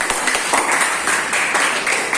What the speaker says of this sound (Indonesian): Tepuk tangan dong buat anak-anak.